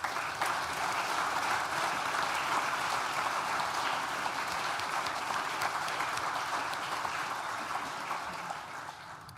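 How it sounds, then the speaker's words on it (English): A graduation ceremony audience at a Nottingham Trent University hall claps in a dense, sustained round of applause that holds steady for several seconds and then begins to thin and fade at the end. "Please join me in thanking them with a well-deserved round of applause."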